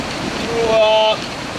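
Skradinski Buk, the largest waterfall at Krka in Croatia, a broad steady roar of falling water heard from a distance, with a brief high tonal whistle over it in the middle.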